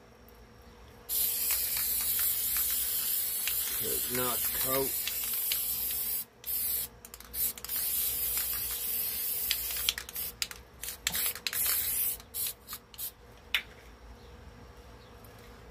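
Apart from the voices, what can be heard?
spray can spraying a speaker board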